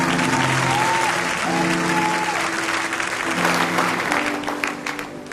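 Church congregation applauding in a worship service, steady dense clapping filling the room throughout, with voices and faint musical tones beneath that fade slightly near the end.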